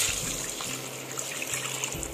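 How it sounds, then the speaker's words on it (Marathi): Water poured into a cooking pot holding whole spices for pulao makes a steady, close trickle and splash that runs unbroken for about two seconds. "आता यामध्ये आपण पाणी घालूया"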